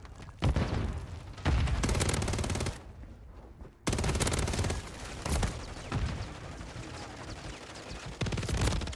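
Dense automatic gunfire from a Call of Duty: Modern Warfare III match, with continuous rapid bursts and brief pauses between loud volleys, close and heavy with no voices.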